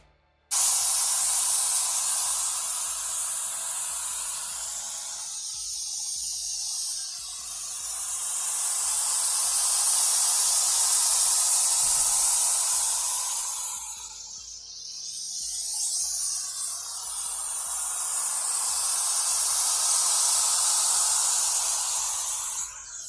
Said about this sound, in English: Now I'm going to turn white noise on and just rotate the phone around the microphone